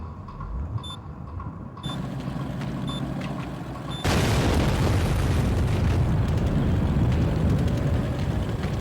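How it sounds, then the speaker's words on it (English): A 40-pound C4 charge blows up an ammunition-laden gunboat, heard from a distance as a deep sustained roar that thickens and swells after a few seconds and rumbles on loudly to the end. "Even from a distance, the explosion was huge."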